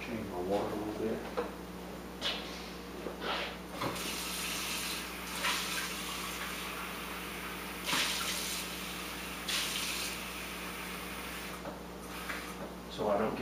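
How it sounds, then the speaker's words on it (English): Tap water runs into a sink to change the brush-rinsing water while painting a Civil War figure, a steady faint stream with a few clunks and splashes, and someone talks briefly at the start. "I'm going to go ahead and change my water."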